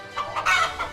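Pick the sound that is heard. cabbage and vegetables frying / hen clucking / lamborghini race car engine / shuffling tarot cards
hen clucking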